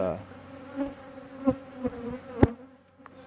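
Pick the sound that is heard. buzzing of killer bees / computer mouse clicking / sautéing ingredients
buzzing of killer bees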